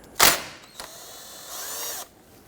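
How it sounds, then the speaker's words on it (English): A wheel hub nut on a 2006-2014 Honda Ridgeline is loosened with a 21mm socket, probably on a power tool: a loud short burst of impact, then a brief knock and a half-second whirring spin as the nut runs off. "Using a 21mm socket, loosen and remove the nut."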